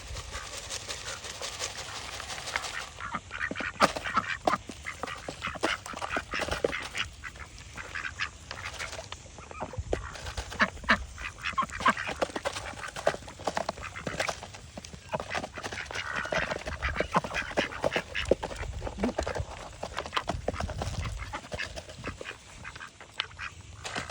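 A flock of ducks and ducklings quacks continuously outdoors while being fed worms, with dense overlapping calls filling the whole stretch.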